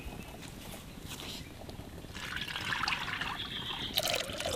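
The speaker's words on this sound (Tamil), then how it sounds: "நல்லெண்ணெய் ஊற்றிக்க போகிறோம்." Sesame oil poured into a pan over a village cooking fire, a steady liquid trickle with outdoor background noise that grows a little louder and brighter partway through.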